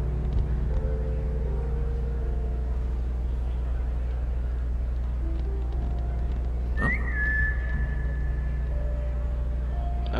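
Whistling in the Assassin's Creed Chronicles Russia video game, a few short whistled tones, one rising then held, heard over a steady low game background hum.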